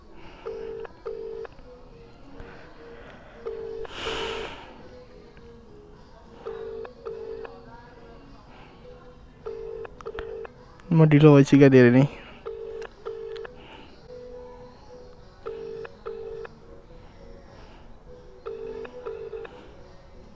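An outgoing phone call ringing at night among friends: short repeated paired beeps sound at regular intervals, with a brief burst of talking partway through.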